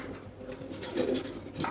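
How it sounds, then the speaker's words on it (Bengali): A fancy pigeon at a pigeon farm gives soft, low, repeated coos, close by over faint background noise. "এখানে আছে এক পিস কবুতর, আপনি দেখতে পাচ্ছেন।"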